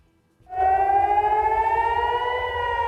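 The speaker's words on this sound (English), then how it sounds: "Warning sirens echo across Israel overnight" A civil defense warning siren sounds across Israel at night, a steady loud wail that starts suddenly and holds a slowly rising tone, with no voices.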